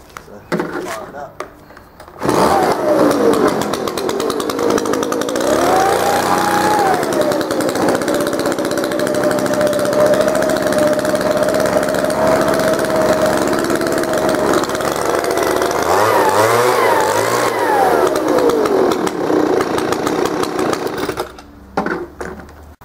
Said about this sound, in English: So I'll just fire it up so you can see and hear what it sounds like.